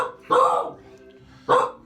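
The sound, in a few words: dog barking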